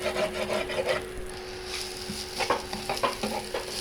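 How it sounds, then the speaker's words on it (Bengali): Fried egg being stirred into vermicelli in a pan for a lemon-flavored egg semai, with steady scraping and rubbing strokes and a faint sizzle underneath, close and moderately loud, no talking. "এখন সেমাইয়ের সাথে ডিমটা মিলিয়ে দেওয়া হচ্ছে"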